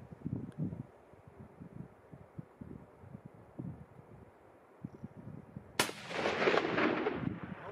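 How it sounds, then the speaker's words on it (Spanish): After quiet rustling and faint murmurs, a single sharp rifle shot cracks loudly during an ibex hunt, followed by a rolling echo that fades out. "El cazador hizo el segundo disparo y esta vez acertó."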